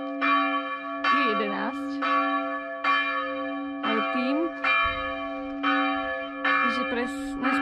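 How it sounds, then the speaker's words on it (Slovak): Church bells ring out over Zavratnica cove in Croatia, loud repeated tolling strikes with long sustained ringing tones, while someone speaks briefly between the strokes. "kde prídem, tak tam začnú zvoniť zvony"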